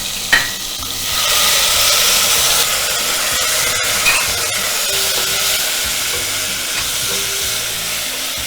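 Spices with turmeric and a splash of water hitting a hot pan while cooking mango pulao: a sharp burst of loud hissing sizzle that settles into steady, bubbling frying with occasional spoon scrapes, no talking.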